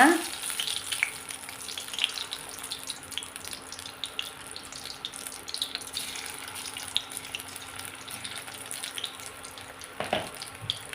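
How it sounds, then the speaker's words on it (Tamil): Cauliflower chilli deep-frying in hot peanut oil on a low simmer, a continuous crackling bubbling sizzle with a faint steady hum behind it, close and lively throughout. "சில்லி பொறிக்க போகிறேன்"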